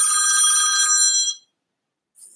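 A phone rings in one loud electronic tone for just over a second, cuts off into silence, and then a faint bit of a second ring begins.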